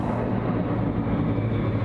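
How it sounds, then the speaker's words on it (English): Continuous low rumbling drone of a helicopter, steady and fairly distant, with no voices. "That's just a helicopter."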